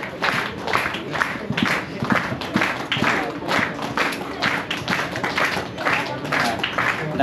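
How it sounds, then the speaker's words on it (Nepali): Audience in a church hall clapping hands in thanks to church members who served the congregation, a dense steady round of applause with individual claps distinct, close and continuing throughout. "हामी सबैजनाले ताली बजाउने नै छौँ।"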